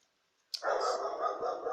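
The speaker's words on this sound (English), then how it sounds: "it's just my dogs outside" Dogs bark outdoors in a sudden, loud burst that continues steadily until the end, with no voices over it.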